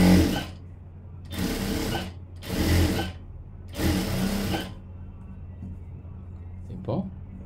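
A sewing machine stitching a blouse lining runs in four short bursts of steady whirring, each a second or so long, separated by brief pauses, close and clear, with faint talk in the background.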